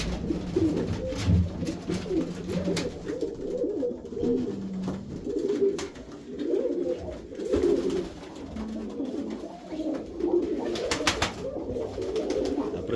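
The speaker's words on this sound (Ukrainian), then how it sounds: "Красива та голубочка." Domestic pigeons cooing steadily in a loft at close range, with repeated soft, throaty coos overlapping one another over faint background rustling and occasional clicks.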